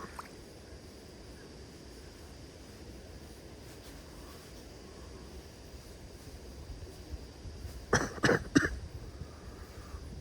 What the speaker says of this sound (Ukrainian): Кашель у мене якийсь поганенький.